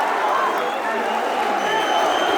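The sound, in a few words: audience applause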